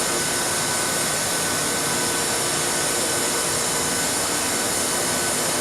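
A hot air heat welder runs steadily while welding a roofing seam and a hand roller presses across the nozzle tip, giving a continuous loud airy roar like a blower with no breaks.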